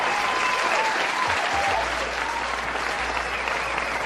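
Steady, dense applause fills the stretch as a sound effect on a radio show, even and continuous from start to finish at a moderate level, with no voices over it.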